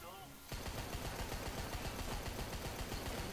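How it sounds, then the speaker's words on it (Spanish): Rapid gunfire in the video game Rambo rattles in a dense, continuous burst that starts suddenly and stays loud throughout. "Ten cuidado con tus disparos"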